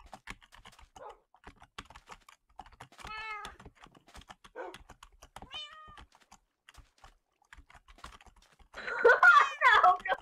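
Cats meow repeatedly in a Minecraft server game, thin mewing cries arriving in short bursts amid soft keyboard typing, ending in a louder cluster of overlapping meows.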